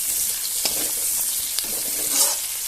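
Ginger, garlic and turmeric fry in hot oil with a steady close sizzle, broken by a few scraping stirs of a spoon against the pan.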